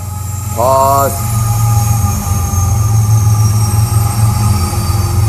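A train rolls past with a steady low rumble while its horn gives one short blast early on, fairly loud and close, with people's voices mixed in.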